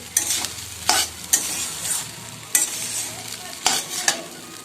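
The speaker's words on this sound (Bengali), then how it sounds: "লবণ সামান্য দিয়ে ভাতটাকে ফ্রাই করে নেব" Leftover rice frying in a pan with onion, coriander leaves and a little salt, stirred with a spatula: steady sizzle broken by a repeating rhythm of sharp scraping strokes against the pan.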